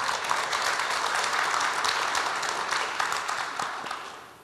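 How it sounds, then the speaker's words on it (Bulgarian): Applause from an audience at the "Dostoynite balgari" 2018 awards ceremony, a steady dense wash of clapping that holds for several seconds before tapering off slightly at the end. "Аплодисменти за всички тях."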